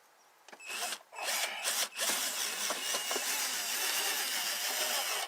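A power drill whirs continuously after a few short starts and stops, loud and close, grinding steadily into a wall beside a window.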